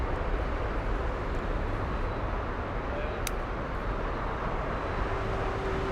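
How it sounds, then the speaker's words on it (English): Airliner on final approach at Frankfurt airport, a steady distant broadband roar of jet noise with faint background voices. "We have another one, the one from Miami on final approach."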